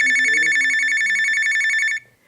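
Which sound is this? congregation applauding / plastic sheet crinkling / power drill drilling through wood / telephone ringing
telephone ringing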